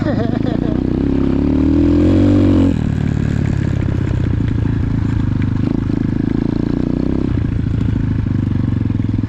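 An X-Pro Titan 250cc motorcycle rides around a moto park, its engine droning steadily with shifting revs while clattering and wind noise run through it, a rider's voice breaking in over the engine.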